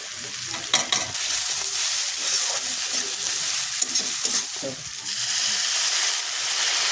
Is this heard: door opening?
no